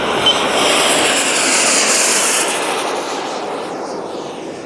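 A Boomerang ATOM radio-controlled plane takes off with full flaps, its engine a loud, steady, close roar that eases slightly toward the end.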